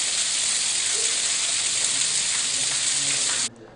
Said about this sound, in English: I'm going to turn off the audio on the video just because the rain is so loud